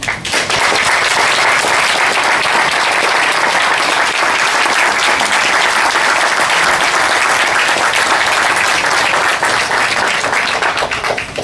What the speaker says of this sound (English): Please join me in applauding this year's honorary alumnus, Dr. Bernie Russi.